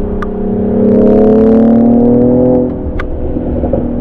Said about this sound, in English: a lot of these new sports SUVs are adopting sort of that pop and crackle sound from the exhaust